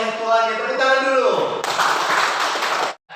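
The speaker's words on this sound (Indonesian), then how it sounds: "Tepuk tangan dulu." Children in a classroom break into a short burst of hand clapping after a teacher's spoken prompt, the claps dense and close for about a second and a half before cutting off.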